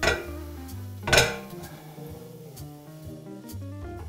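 A metal cooking pot is handled on a kitchen stove while lamb and root vegetables go in for lagman, giving a few close clanks and knocks, one sharp, with quieter scraping between them.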